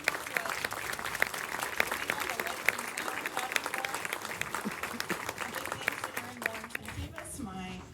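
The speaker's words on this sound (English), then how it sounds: "Please give a big shout out to Mr. Griff and his tech team, who never get applause." Steady applause from a concert audience at a school winter concert fills the room, dense and sustained clapping with a few louder claps, tapering off at the end.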